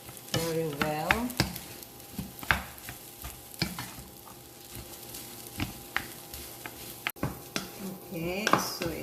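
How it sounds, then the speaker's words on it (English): Pineapple fried rice being stirred and mixed in a pan, with repeated scraping clinks of a utensil against the metal and a soft sizzle underneath, moderately close, with a brief voice near the end. "Now you need to mix it"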